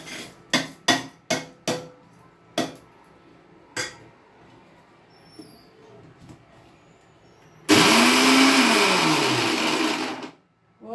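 A kitchen mixer grinder grinds soaked lentils (dal) into batter, first in several short sharp pulses, then in one loud continuous whirring run of a few seconds that cuts off abruptly.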